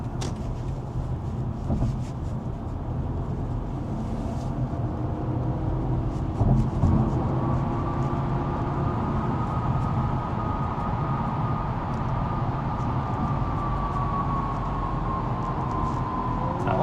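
Inside a BMW 520i M Sport driven on a road, a steady low rumble of tyres and wind carries an engine note that rises gradually in pitch as the car accelerates.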